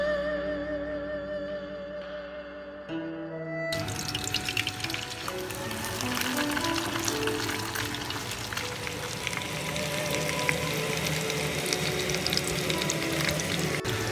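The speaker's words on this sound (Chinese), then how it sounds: "融化猪油放入裹好鸡蛋液的鱼块" Egg-coated fish pieces sizzle loudly in melted lard after dropping into the hot pan, a steady bright crackle following a brief quieter stretch of clinking cookware.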